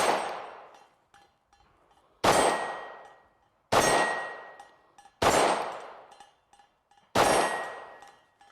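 A Smith & Wesson EZ9 pistol fired at a shooting range: five loud, sharp shots at uneven intervals, each cracking out and ringing off in a short decaying echo, with quiet gaps between.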